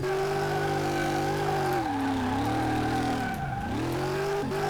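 Supercharged V8 engine in a car in Car Mechanic Simulator 2018, revving loudly and steadily with rising and falling pitch sweeps, a strong harmonic drone throughout and no talk.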